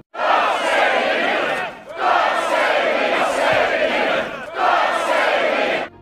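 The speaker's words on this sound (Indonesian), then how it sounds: "para warga pun sorak ramai atas hal tersebut" A crowd of villagers cheers and shouts in the Vikings TV series, three loud, sustained bursts of massed voices of about two seconds each, separated by short breaks.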